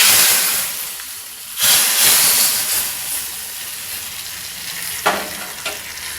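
Hot oil tempering with dried red chillies poured into a tamarind onion curry, giving a loud, steady frying sizzle with a sharp hissing burst near the end, no voices.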